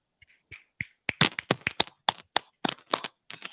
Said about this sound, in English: Let's give them a well done clap.